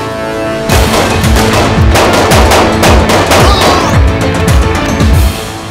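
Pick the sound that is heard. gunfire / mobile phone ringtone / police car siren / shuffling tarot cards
gunfire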